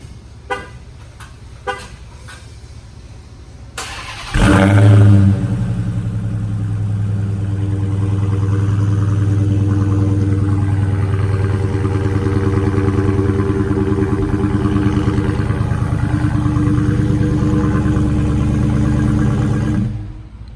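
A car engine with its stock factory exhaust, before any modification, idles steadily and loudly after a couple of faint clicks and a starting crank, its low rumble holding for about fifteen seconds alone.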